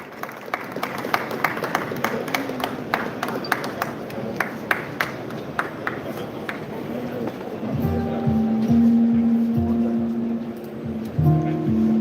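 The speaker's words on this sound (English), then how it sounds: "Let's give them an applause" Audience applause breaks out at an award ceremony for runners-up, a dense spread of clapping that grows fuller in the second half, with some sustained tones and background voices.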